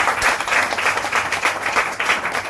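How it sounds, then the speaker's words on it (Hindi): Loud applause from an audience at a network marketing training seminar, vigorous clapping in rhythmic waves close to the recorder, filling the short stretch without speech. "एक बार आप सब अपने लिए जोरदार ताली बजा दीजिए"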